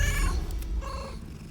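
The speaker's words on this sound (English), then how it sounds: "Cat's going to meow." A cat in Baldur's Gate 3 gives two tonal, harmonic meows, the second softer, over a low rumbling purr that continues throughout, all fairly close.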